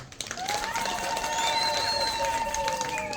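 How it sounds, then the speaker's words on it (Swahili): A church congregation applauds and cheers for the five couples married this year, a loud sustained wash of clapping and crowd noise with a sung or held tone running over it. "Tuwapigie makofi"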